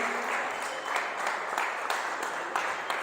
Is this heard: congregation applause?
yes